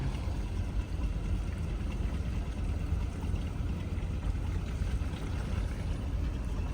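Boats idling and moving at a busy river dock in Indonesia, a steady low engine rumble and water wash filling the scene at close range with no talk.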